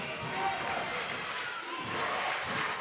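Crowd noise from spectators at a girls' high school basketball championship game, a steady roar of voices rising and falling in the gym, rather faint and diffuse, with talk mixed in.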